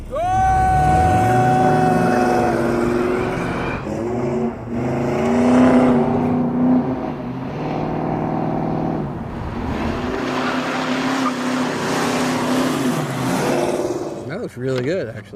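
A kart built from a 1985 C4 Corvette laps an autocross course, its engine revving and shifting up through the gears, then fading and rising again, with voices over the top.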